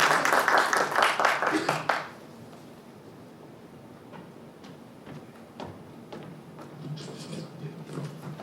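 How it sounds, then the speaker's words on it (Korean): An audience at a political party gathering claps to welcome a speaker, a burst of dense applause that cuts off abruptly after about two seconds, followed by quiet room tone with scattered clicks and soft movement noises. "여러분 큰 박수 부탁드리겠습니다."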